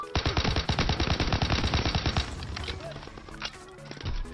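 Rapid automatic gunfire from a Type 100 submachine gun in Call of Duty WW2 rattles in fast, loud bursts for about two seconds, then scattered shots and game effects follow.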